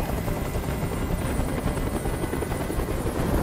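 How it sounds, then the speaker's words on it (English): Helicopter hovering in the Detroit: Become Human video game, a loud, steady rotor roar with fast chopping pulses, close and continuous with no talk. "Tell that helicopter to get out of here."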